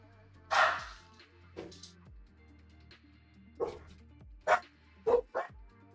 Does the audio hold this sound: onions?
no